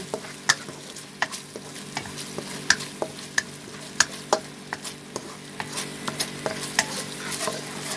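Red curry paste with shallots and fingerroot is stir-fried in coconut cream, a soft continuous sizzle punctuated by regular sharp clinks and scrapes of a spatula against the pan.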